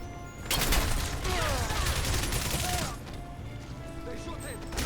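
Gunfire bursts in the video game Crysis Remastered, several loud shots crowding together over a dense battle din for most of the stretch, with the firing easing toward the end.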